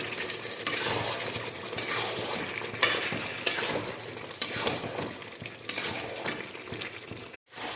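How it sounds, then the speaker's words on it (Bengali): Desi chicken and potato sautéed in a pan, a steady oily sizzle punctuated by regular scraping and clinking spatula strokes roughly every second, ending with a brief drop to silence. "দেশি চিকেন যত কষাবে তত টেস্টি হবে, তাই আমি ভালো করে কষিয়ে নিচ্ছি"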